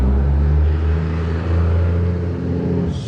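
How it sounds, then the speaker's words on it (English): A loud truck rumbles past close by a garage where an Acura TSX is getting aftermarket camber arms, its low engine drone steady and heavy for a few seconds before easing off. "Man, that truck is loud."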